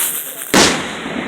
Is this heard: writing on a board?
no